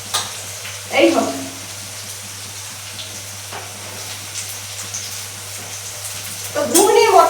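Meat set to cook in a pan in a Bengali home kitchen gives a steady, moderate sizzle, with a few louder stirring bursts near the start and end.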